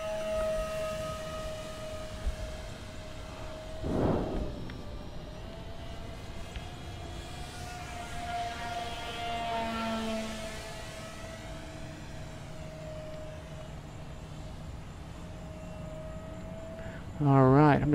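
Twin electric motors of an E-flite Twin Otter 1.2m RC seaplane flying a confined-area demo, a steady humming whine that shifts in pitch as it passes, with wind buffets and people talking.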